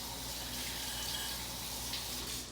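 Water runs from a tap while hands are washed, a soft, steady gushing hiss heard close and alone for a couple of seconds.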